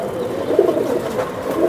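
Hammer breed pigeons coo in low, soft rolling tones, a steady murmur of calls close by with no talking.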